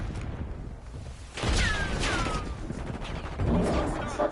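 Explosions and bursts of gunfire in a Call of Duty game, including a frag grenade blast, come through as sharp booms and crackling shots with a couple of whizzing streaks, at moderate level.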